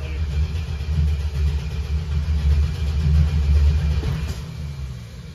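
A 1968 Dodge Charger garage find, parked for 28 years, cranking and burbling with a loud, steady, rough engine rumble that rises and falls throughout and eases toward the end.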